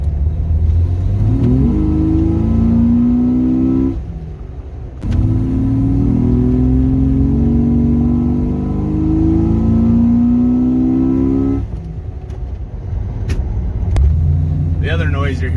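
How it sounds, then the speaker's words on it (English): A Jeep XJ fitted with a glass pack muffler accelerates on the road, its exhaust rising in pitch through gear pulls with a brief lift between, loud and near, while cabin rumble persists and a voice speaks over parts. "I really thought that a glass pack wasn't going to sound very good."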